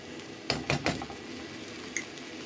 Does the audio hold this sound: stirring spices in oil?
yes